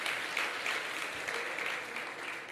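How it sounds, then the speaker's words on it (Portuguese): Church congregation applauding during a live-streamed Sunday service, a dense, steady wash of many hands clapping at once, filling the room without a break for the full stretch. "Vamos dar uma salva de palmas para eles."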